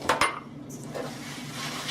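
Gluten-free stuffing moved into a baking pan, with a couple of sharp metallic clinks of utensil against pan at the start, then softer scraping and shifting sounds, close by and without talk.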